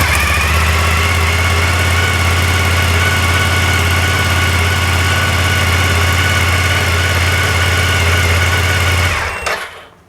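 A fuel-injected motorcycle engine idles just after starting, a loud, steady hum with a strong low drone that runs evenly before cutting off abruptly near the end.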